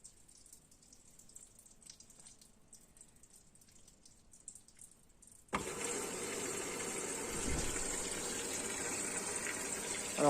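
A Candy washing machine on a 70-degree white wash sits quietly humming at first, then water suddenly gushes in loudly and rushes steadily into the drum for the rest of the time.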